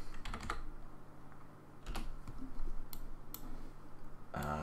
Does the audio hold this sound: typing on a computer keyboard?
yes